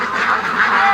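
A pair of loud, close quacks from penned ducks ring out at night, two nasal honking bursts in quick succession with a faint background hum.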